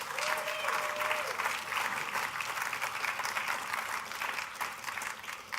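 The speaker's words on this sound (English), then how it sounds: "Let's have a round of applause for ICANN." An audience applauds for ICANN at a peace and collective action gathering, a sustained, fairly distant wash of clapping that stays steady, with faint voices mixed in underneath.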